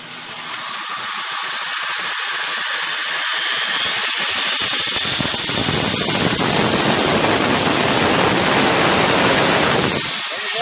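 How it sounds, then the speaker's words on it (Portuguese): Electric drill powered through a 3000W pure sine wave inverter, whirring loud and steady for about ten seconds with a rising pitch as it spins up, then cutting off near the end, with no voices. "Então eu vou ligar aqui a furadeira"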